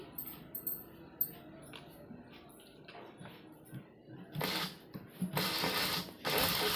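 A sewing machine stitches doori piping onto pieces of cloth joined together. Quiet mechanical clicks and handling come first, then several loud, close bursts of running stitches.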